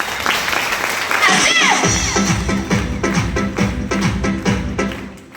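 Loud applause from an event audience in a hall, broad clapping swelling up and carrying on steadily with some rhythmic patter, a voice occasionally heard over it.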